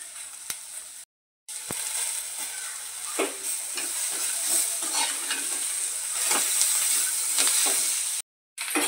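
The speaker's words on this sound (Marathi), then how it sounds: "आपले 2 मिनिटं चटणी परतून झालेली आहे" Dried Bombay duck chutney with plenty of fresh coriander is stirred and fried in a pan. A close, continuous crackle carries repeated scraping and clinking from the spoon against the pan, with two brief silent gaps.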